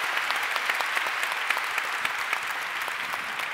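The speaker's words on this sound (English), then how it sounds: "give her a round of applause" An audience at an evening peace prize ceremony applauds a singer, a steady wash of many hands clapping evenly throughout, with no voices over it.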